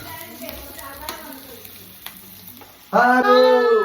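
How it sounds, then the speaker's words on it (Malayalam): Onions sautéing in a pan, stirred with scraping and a soft sizzle at first, then a loud bright sizzle bursts up as more goes into the hot oil. "നമ്മള് ഉള്ളിയൊക്കെ വാട്ടിയെടുക്കണം"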